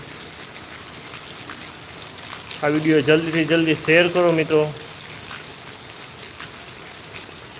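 Heavy rain with big drops pours down in Gondal, a steady, even wash throughout. Someone speaks briefly over it.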